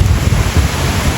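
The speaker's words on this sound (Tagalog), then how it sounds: "Grabe, lakas ng alon baka abutin si Tatay Robin," Strong ocean waves surge and crash close by in a steady, loud low roar, with wind buffeting the microphone throughout and no voices over it.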